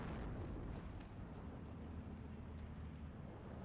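Hummel self-propelled artillery in the WWII strategy game Steel Division 2 fires, a dense, rumbling low boom spread across a continuous battlefield roar with no talking.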